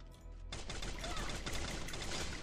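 In the video game Free Fire, a burst of gunfire erupts in rapid automatic volleys. It is fairly quiet in the mix and continues steadily after a short lead-in of faint background sound.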